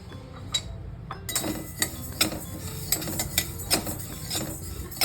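Flax seeds roasting in a kadhai crackle with scattered sharp little pops over a low hiss, mixed with occasional metallic clinks of a utensil, close by and with no talking.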